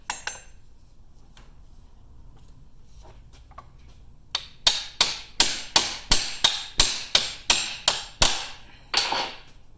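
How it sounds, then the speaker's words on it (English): A hammer strikes a U-joint cap in a RZR prop shaft yoke, about a dozen sharp metallic blows in a steady rhythm after a few light taps, close and clear with no talking. "as I'm hitting that the cap is starting to protrude from the yoke"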